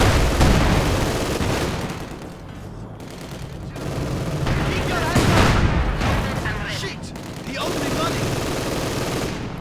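Gunfire in a Company of Heroes 2 battle, with German fire pinning down Soviet Guardsmen attacking in the open. Dense, relentless bursts of machine-gun fire and rifle shots run together with booms, loud and continuous throughout.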